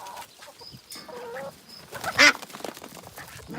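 Farmyard birds, ducks and chickens together, make a busy mix of short quacks and clucks nearby, with one louder squawk standing out in the middle.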